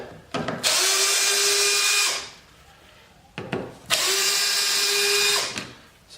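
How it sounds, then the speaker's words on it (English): A power drill backs Phillips head screws out of the rear bumper of a K20 turbo MR2 in two loud, close whirring bursts of about a second and a half each, with short clicks and pauses between. "Then we got two Phillips head screws."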